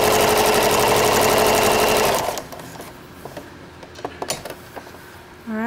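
A sewing machine stitches fabric for a placemat tote bag, producing a loud, fast, even mechanical whirr for about two seconds that then stops abruptly, followed by quieter clicks and handling taps and a brief restart at the end.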